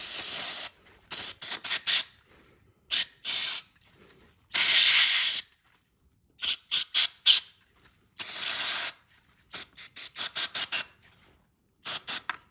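Short bursts of aerosol carburetor cleaner hiss into a Craftsman lawnmower carburetor, close and sharp, some quick pulses and a few longer sprays separated by near silence.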